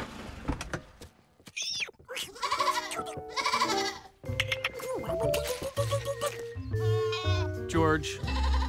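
Cartoon goats bleat repeatedly in wavering, nasal cries, several animals calling over one another amid clatter and background commotion.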